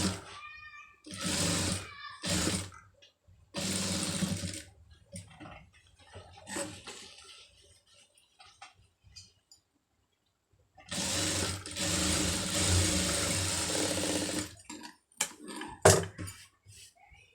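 A sewing machine runs stitches along the edge of a piece of cloth in several loud bursts of steady whirring, stopping and starting with quiet gaps between runs.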